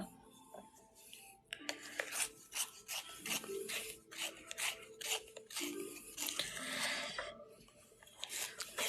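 A coloring pencil or crayon is ground in a handheld sharpener, close raspy scraping in uneven bursts and strokes that continue for several seconds with brief pauses.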